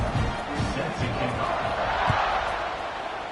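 A stadium crowd roars and cheers in a college football video game during a kickoff, a dense steady wall of noise throughout with a commentator's voice faintly underneath.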